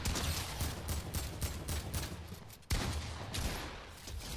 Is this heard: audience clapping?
no